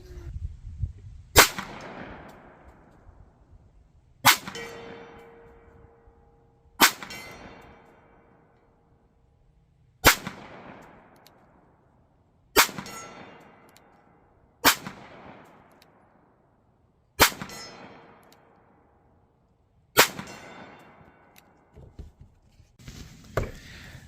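Smith & Wesson Shield Plus 9mm pistol fired at targets 50 yards away on a range, eight sharp loud cracks spaced a few seconds apart, each with a ringing decay, no talk.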